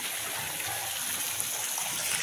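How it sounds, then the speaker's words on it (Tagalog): Water runs hard and fast as it is collected, a steady, full rushing flow that holds even and close throughout with no voices over it. "Kay gagas-agas ang tubig."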